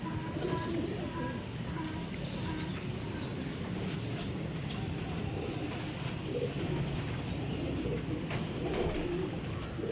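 Golden pigeons kept in a loft, steady low cooing from several birds close by, with faint chirps and background hum throughout.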